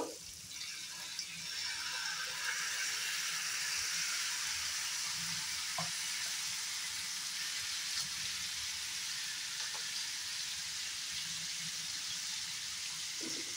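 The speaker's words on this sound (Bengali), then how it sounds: "পেঁয়াজ দিয়ে দেব।" Onions frying in a hot pan for a dry masala chicken: a steady, fairly quiet hiss of sizzling oil running throughout, with an occasional faint utensil tap and no talking.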